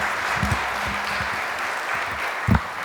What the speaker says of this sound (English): Could we have a round of applause for Meredith?